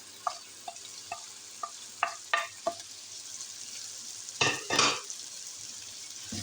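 Golden fried onions are added and stirred into sizzling beef pasanday in a pan. A run of short scraping stirs comes in a quick rhythm, then two louder sizzling bursts, close and with no talking.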